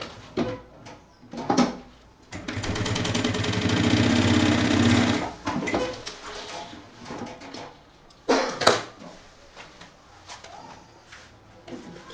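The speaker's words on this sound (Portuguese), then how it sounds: "Vamos pegar um dos lados e passar uma costura de segurança." A sewing machine runs a continuous burst of rapid stitching along a backpack seam for about three seconds. Short bursts, handling clicks and fabric rustle come before and after.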